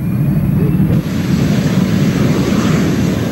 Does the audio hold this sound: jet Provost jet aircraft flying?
yes